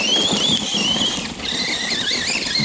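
Radio-controlled MT10 vehicle fitted with a larger, more powerful electric motor, its loud high-pitched whine running steadily and shifting pitch as the throttle changes, close by with no talk.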